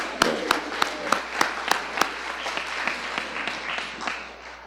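Scattered audience applause at a school board meeting honouring a graduating student, a handful of loud distinct claps standing out over softer continuous clapping.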